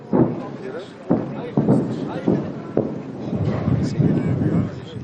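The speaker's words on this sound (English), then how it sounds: "another round of explosions on a hill on the far side of the town." Another round of distant explosions booms from a hill on the far side of a town amid military fighting, several muffled blasts rolling out over steady wind noise at irregular intervals.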